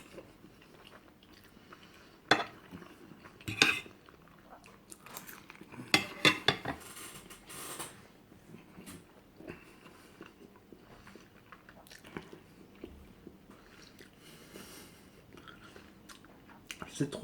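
A person eats Senegalese-style pasta with meat and onion. Cutlery clinks against a plate now and then over soft, close chewing and mouth sounds, with quiet stretches between bites.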